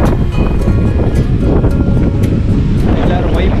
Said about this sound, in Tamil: காற்றுலாம் ஆளே தூக்கி வீசிடுங்க